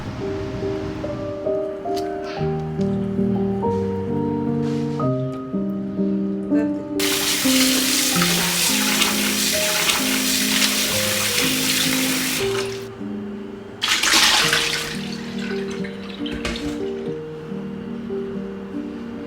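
Hot water is poured over garlic cloves in a steady, rushing splash for several seconds, followed by a shorter second pour, with soft melodic music playing throughout.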